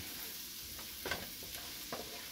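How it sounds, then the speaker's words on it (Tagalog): Garlic browning in a pan for a squash and long-bean dish with shrimp, a soft continuous sizzle broken by a few scraping stirs of a utensil, no talking. "Brown natin yung bawang."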